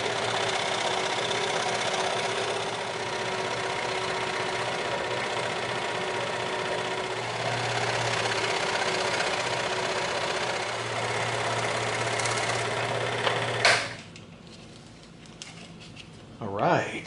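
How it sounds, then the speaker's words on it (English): A scroll saw cuts a trigger shape out of EVA foam, a steady buzzing drone that runs continuously for most of the stretch, then cuts off and leaves near-silence with a brief mechanical rattle. "we can feed the scroll saw blade through there and cut our trigger out"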